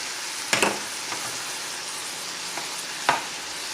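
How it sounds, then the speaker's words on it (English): Parched rice (poha) stirred in a pan, a steady soft sizzle with a few sharp scraping clicks of the spoon near the start and end. "this is the time to add poha into it,"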